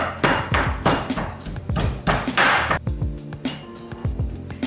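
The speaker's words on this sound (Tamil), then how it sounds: "3 பச்சை மிளகாய் 8 க்ளவுஸும் ரெண்டும் சேர்ந்து நம்ம தட்டி எடுத்துக்கிடலாம்" Green chillies and garlic cloves are pounded by hand, heard as a close, steady run of sharp thuds and knocks with faint metallic rings between the strikes.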